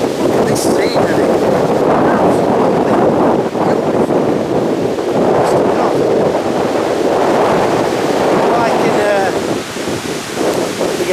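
Strong storm wind gusting across a mountain valley campsite, a loud, steady roar buffeting the microphone throughout, with a voice talking beneath it.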